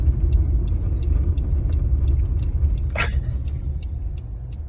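Steady low road rumble of a car driving along, loud and continuous throughout, with a brief passing whoosh partway through and faint repeated ticking above.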